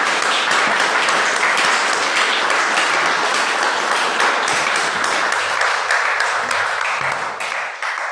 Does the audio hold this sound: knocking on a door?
no